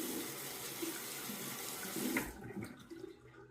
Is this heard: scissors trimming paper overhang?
no